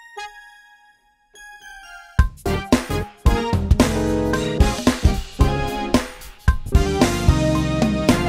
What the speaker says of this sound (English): Then we're gonna highlight that bell line right there.